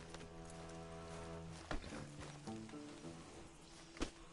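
Horse hooves clip-clop in Red Dead Redemption 2, a few soft scattered steps over a steady low game score, with a louder thud near the end.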